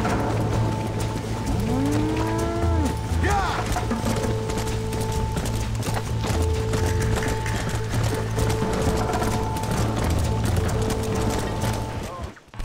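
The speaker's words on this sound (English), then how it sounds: "We can't let those cows die. They're running for the cliff." Cattle stampede in Red Dead Redemption, a steady rumble of hooves with lowing cows and tonal music layered over it, people talking throughout.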